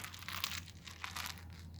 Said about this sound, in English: all you gotta do is just simply crush the bag